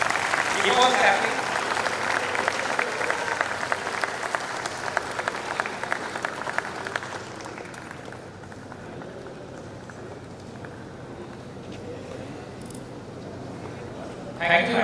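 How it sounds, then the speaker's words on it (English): An audience at a convocation ceremony applauds for an award recipient, a long, steady wash of many hands clapping that holds for several seconds and then thins, with talk faintly under it and a fresh burst at the end. "Please give a big round of applause"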